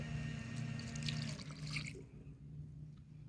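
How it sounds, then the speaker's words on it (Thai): Mixed fuel oil poured from a container onto tissue paper packed into a stove burner head, a steady close trickling pour that stops partway through, leaving quiet room tone. "แล้วก็เทน้ำมันที่เราผสมไว้"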